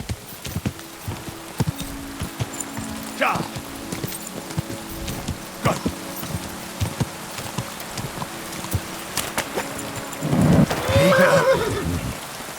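Steady rain in the video game Kingdom Come: Deliverance 2 hisses throughout, with a horse whinnying and hooves clopping nearby, and a louder swell of noise near the end.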